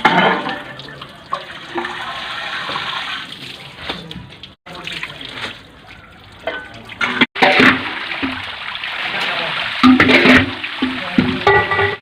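Soaked rice is tipped from its soaking water into a large pot of water for a chana mewa pulao, giving a steady rushing, splashing pour with a few brief breaks.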